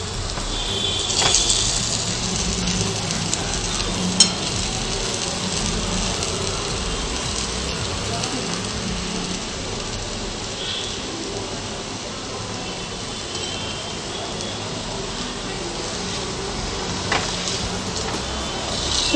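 Dahi vadas frying in hot oil give a steady, even sizzle with a soft bubbling hiss that runs unbroken throughout, fairly close, with no talking.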